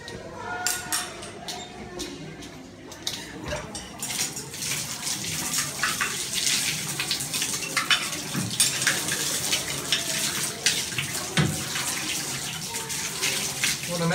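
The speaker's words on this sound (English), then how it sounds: "So we're going to rinse it off under running water." A CMAC video laryngoscope is rinsed under running tap water, a steady hiss and splash of water close by, with handling knocks at the start before the flow settles.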